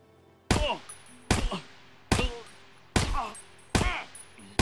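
Five sharp gunshots from an AK firing 5.45 PS rounds at armour in Escape From Tarkov, spaced about a second apart, each loud crack trailing into a brief ringing decay over a quiet background.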